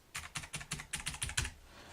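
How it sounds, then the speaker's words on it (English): Keys clatter on a 1ST PLAYER MK7 mechanical gaming keyboard in a quick run of about ten moderately soft clicks, close up, with a short quiet pause at the end. "The keys are not too loud."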